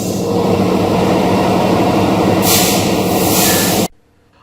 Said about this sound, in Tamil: நம்ம டீசல் இன்ஜின் செம்ம சூப்பரா செக் பண்ணி கொண்டு வந்து நம்ம பிளாட்ஃபார்ம்ல நிறுத்திட்டோம்